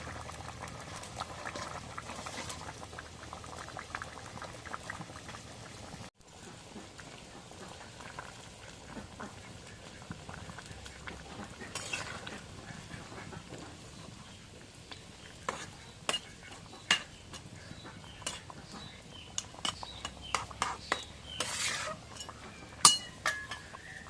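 Fish cooks in a pot of bubbling liquid, a quiet steady simmer with scattered clinks and scraping stirs that grow more frequent toward the end.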